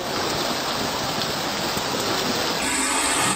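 Heavy rain pours down in a steady, dense roar with no gaps, loud and close, with no voices.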